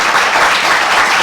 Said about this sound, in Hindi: इनके लिए भरपूर तालियां होनी चाहिए।